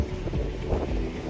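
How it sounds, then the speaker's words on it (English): Low, rumbling gusts buffet the microphone continuously, a dull roaring wind noise with no voices. "It's very windy today, so I hope you can hear me."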